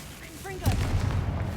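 A Confringo spell in a Harry Potter video game bursts with a sudden booming blast and a rumbling low tail lasting about a second, right after a voice calls out the incantation.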